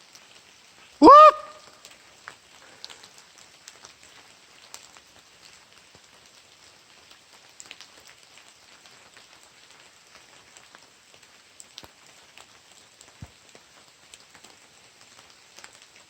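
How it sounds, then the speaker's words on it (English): Steady light rain patters on surfaces outdoors at night in an abandoned ghost town, a faint continuous hiss with scattered drops, briefly broken near the start by a loud, short whooping call. "The sound of this rain."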